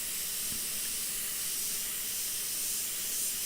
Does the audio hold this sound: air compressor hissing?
yes